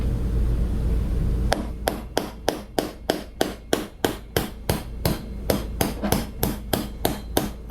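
Steel maul hammering a bolt through steel plates, a long run of loud, evenly spaced metallic blows at about two per second, close and alone after a short stretch of background noise.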